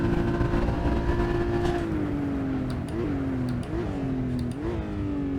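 Porsche Cayman GT4 flat-six accelerating hard on the Imola circuit, a loud steady engine drone that climbs and dips with quick gear changes and rev swings near the end.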